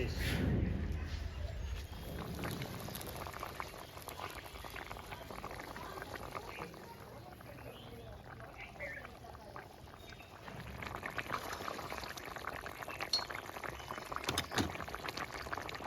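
Bata fish curry bubbles in a pot with a low, steady burbling simmer, faint and close, with a louder splash or pour at the start and some stirring clatter later.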